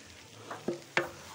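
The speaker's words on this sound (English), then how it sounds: "We keep mixing because at some point it starts down there." Vegetable rice frying in a large pot for mass event cooking, stirred with a couple of distinct scraping clunks over a low steady sizzle, close and fairly quiet with no talk.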